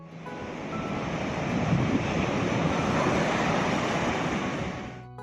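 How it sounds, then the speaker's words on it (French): Ocean surf crashes at the Douro estuary near Praia do Carneiro, a loud sustained roar of breaking waves blended with heavy wind buffeting the microphone before it fades out at the end. "Les vagues se déchaînent et le vent souffle bruyamment."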